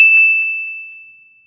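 A single bright notification bell ding struck once, loud and clear, then a clean tone that rings and fades away over about a second and a half.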